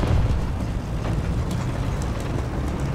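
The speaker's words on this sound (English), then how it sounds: "I am on the battlefield. People are shooting." Battlefield gunfire and explosions in War Thunder, a dense, steady rumble of distant blasts and shots that blends into a continuous low roar with faint crackling on top.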